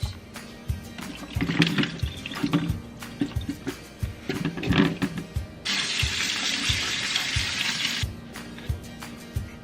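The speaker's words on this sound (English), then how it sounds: "First things first, rinse the jackfruit." Running tap water splashes over canned jackfruit being rinsed in a kitchen sink, with clunks and knocks from handling. Near the end a louder, steady gush of water sounds.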